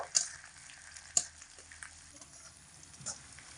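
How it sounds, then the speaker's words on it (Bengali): Onions frying lightly in a pan give a faint, steady sizzle heard from close by, with a couple of small sharp clicks from the pan. "পেঁয়াজটা খুব বেশি ভাজা ভাজা করব না হালকা একটু ভেজে নেব এক মিনিট মতো"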